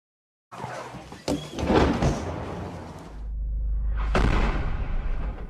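Two heavy, loud 120 mm mortar shells hit a residential building roughly three seconds apart in Bakhmut, each a sharp crack followed by rumbling debris and a low sustained roar.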